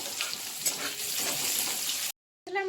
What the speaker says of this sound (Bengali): এরপর কেটে রাখা পেঁয়াজগুলো দিয়ে দিচ্ছি। দিয়ে কিছুক্ষণ ভালো করে ভাজতে থাকবো।